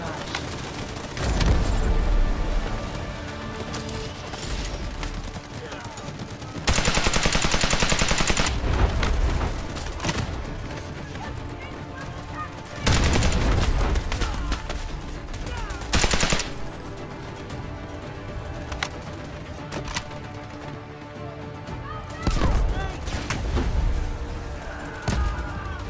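Artillery barrage and heavy gunfire in the Delta Force Hawk Ops video game: loud, dense bursts of shots and booming impacts, with especially heavy blasts surging in waves near 7, 13 and 16 seconds and little pause between them.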